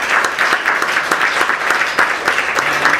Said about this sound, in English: let's give a round of applause to our amazing panelists.